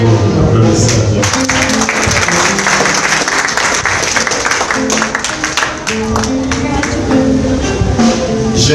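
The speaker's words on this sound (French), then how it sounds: "Applaudissez à Dieu." Sustained applause from a church congregation at a service, many hands clapping loudly and continuously with crowd voices blended in and a brief dip partway through.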